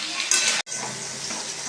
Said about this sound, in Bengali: আলু আর পটলগুলো প্রথমে ভেজে নেবো।